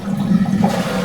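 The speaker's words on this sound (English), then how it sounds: "A handle flush is on this loo to help you say goodbye to poo." A cartoon toilet flushes after its handle is pushed, giving a loud, short rush of water swirling in the bowl.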